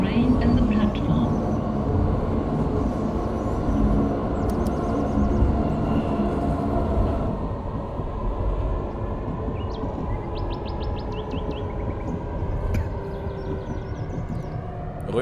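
A Frankfurt U-Bahn line U9 train from Train Simulator 2019 runs with a steady low rumble and rolling hum, later joined by faint chirpy whines and beeps, while a voice announcement plays over it.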